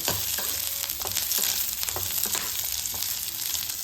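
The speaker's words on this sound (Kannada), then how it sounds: "ಇವು ಮೂರು ಸೇರಿ ಕೆಂಪು ಬಣ್ಣ ಬರೋವರೆಗೂ ಹುರ್ಕೊಳ್ಳೋಣ" Ginger and spices fry in hot oil in a pan, a steady close sizzle with occasional stirring scrapes and no talk over it.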